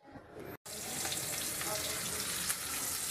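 Garlic and onion dropped into hot oil for sarciado, breaking into a loud, continuous hiss after a brief pause, sustained close up with little variation.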